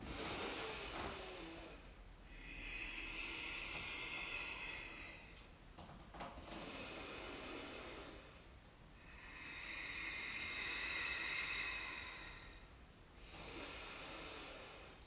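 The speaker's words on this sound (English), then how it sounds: "Let's come back to our deep breaths, or Ujjayi breath if you're familiar." Slow, deep Ujjayi breaths during a yoga session: long hissing inhales and exhales alternate steadily, each lasting a few seconds, close and fairly quiet with no talking.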